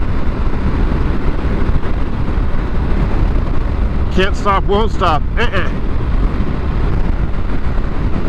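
Strong wind buffets a microphone in a constant low roar while riding a 2022 BMW R1250GSA motorcycle, and someone speaks briefly partway through.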